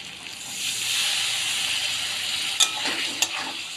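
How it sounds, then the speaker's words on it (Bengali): Shrimp and spice masala fry and sizzle in a pan while being stirred, with splashes of water added; a steady close hiss with a few sharp crackles and clinks toward the end. "এভাবে অল্প অল্প জল দিয়ে কষতে থাকবো"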